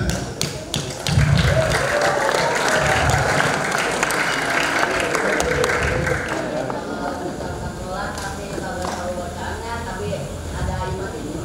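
Students at an Islamic boarding school public lecture break into brief clapping that fades as someone speaks over the room.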